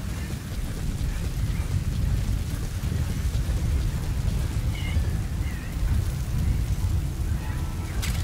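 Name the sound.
sandstorm in video game Metal Gear Solid V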